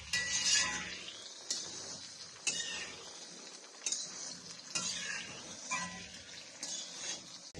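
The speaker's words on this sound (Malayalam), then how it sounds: "തക്കാളി ഇങ്ങനെ കട്ട് ചെയ്യാതെ ഫുള്ളായിട്ട് ഇടുന്നുണ്ട്. നല്ലോണം ഒന്ന് വഴറ്റണം." Whole, uncut tomatoes with curry leaves are sautéed in a pan for tomato chutney. A spoon scrapes and clinks against the metal at regular intervals, fairly quiet, over a low background hiss.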